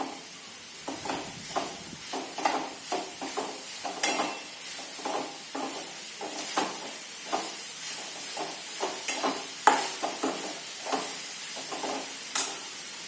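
A spoon stirs a coconut and jaggery mixture in a hot pan, a soft continuous sizzle broken by frequent scraping and clinking strokes, close and fairly quiet.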